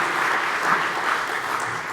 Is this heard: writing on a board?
no